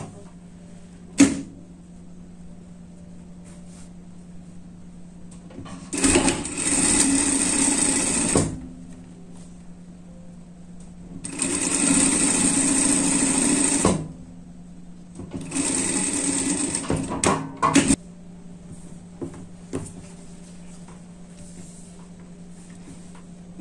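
A sewing machine stitches a three-point zigzag seam on a dress in three separate bursts of steady, close whirring, with quiet pauses and small handling clicks between runs.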